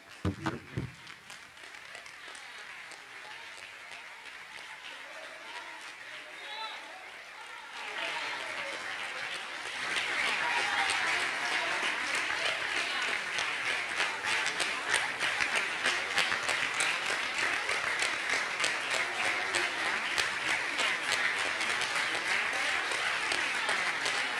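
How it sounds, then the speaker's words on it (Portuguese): A church congregation claps together, at first moderately, then swelling into louder, fuller applause that holds steady for a long stretch, rhythmic and sustained. "Vamos aplaudir, é para Jesus mesmo?"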